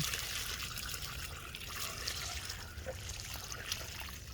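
Water pours steadily onto the soil around a newly planted bareroot rose, a continuous close splashing trickle as several gallons drain down into the planting hole.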